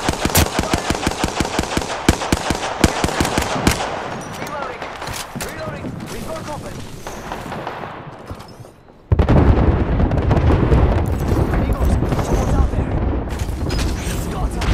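Rapid automatic gunfire in Apex Legends, a loud rattling burst, then a quieter stretch and a sudden heavy blast with rumbling aftermath, likely a frag grenade explosion, with brief voice chatter.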